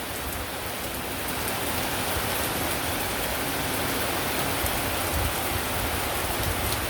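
A steady downpour of heavy rain, loud and continuous, its broad hiss unbroken from start to finish.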